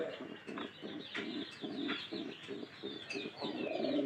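Pet pigeons coo softly and repeatedly at close range in a regular pulsing rhythm, with a few faint chirps mixed in.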